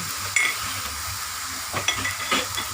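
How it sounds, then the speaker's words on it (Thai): Galangal and shallots hit a hot pan with a steady hissing sizzle, broken by a few light knocks and stirring clatters. "แล้วก็ใส่ข่าลงไป ใส่หอมแดง"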